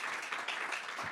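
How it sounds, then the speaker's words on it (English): Applause from an audience honoring three panelists at a Hong Kong cinema festival talk, a steady dense wash of clapping that holds evenly for about a second at moderate, fairly distant level. "So let's give a round of applause to our three panelists"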